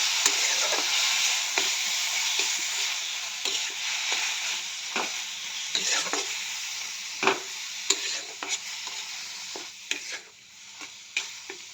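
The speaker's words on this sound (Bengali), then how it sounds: "এবার এটা দিয়ে ভালো করে কষে নেব, একদম শুকনো শুকনো করে সুন্দর করে কষে নেব।" Onion and garlic paste with salt, turmeric and coriander leaf paste fried down until dry, a steady close sizzle broken by regular scraping and tapping of a spoon against the pan.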